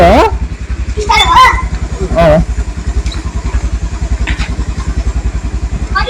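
A scooter engine idles close by with a steady, rapid putter, while a few short shouts and calls break in over the running motor.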